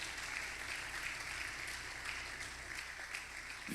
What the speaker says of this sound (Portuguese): Vamos aplaudir esse Deus então?